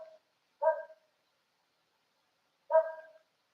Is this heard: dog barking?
yes